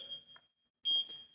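An electronic workout timer gives a single sharp high beep, close and clear, in an otherwise quiet room with faint background noise.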